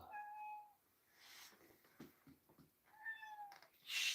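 A cat meows indoors, two drawn-out plaintive calls about three seconds apart, fairly quiet and close, with faint rustling between them.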